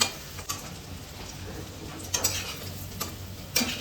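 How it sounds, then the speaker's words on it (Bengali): Egg dhoka pieces fry in oil under a steady hiss, with a few sharp utensil clicks spaced out as the pieces are lifted from the pan, close and without talking. "ভালো করে ভাজা হয়ে গেছে, ধোকাটা তুলে নিচ্ছি"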